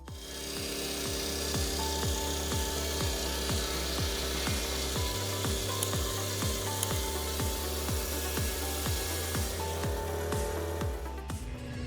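Chainsaw cutting through wood during hand-built wooden house construction, a steady loud engine drone with a regular rhythm of repeated cutting strokes throughout, no talking.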